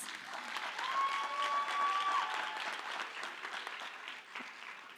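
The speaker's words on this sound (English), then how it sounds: "please give yourselves a round of applause" Graduation-ceremony audience applause in a large hall, a sustained wash of many hands clapping at moderate distance, steady then slightly tapering, with a faint tonal whistle or feedback line partway through.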